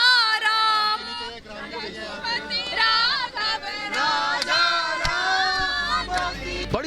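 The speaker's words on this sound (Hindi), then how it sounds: "बड़ी संख्या में लोग जंतर मंतर पर जमा हो गए और सुशांत के लिए इंसाफ के नारे लगाने लगे" Hundreds of protesters crowd together at Jantar Mantar in Delhi demanding justice for Sushant, a dense murmur of many voices with raised shouts and slogans rising and falling throughout, loud and close.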